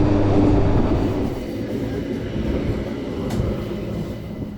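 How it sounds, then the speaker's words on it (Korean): A train runs from Interlaken Ost to Grindelwald in the Swiss mountains, with a continuous low rumble and rolling wheel noise heard from inside the carriage. It stays fairly even throughout, with a faint squeal near the end. "인터라켄 동역에서 열차를 타고 약 40분을 달려 그린델발트역에 도착했습니다"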